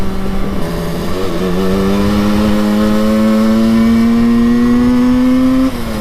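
A 1968 Yamaha YL1 Twinjet two-stroke motorcycle engine drones loud and close, its buzzing pitch climbing steadily as it revs, then easing off just before the end.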